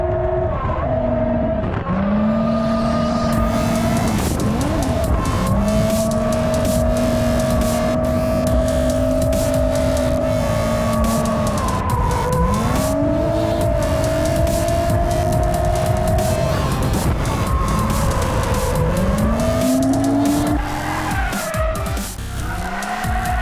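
A drift car at a drift day revs hard and slides, its tires squealing in long rising and falling screeches over a loud, steady engine roar.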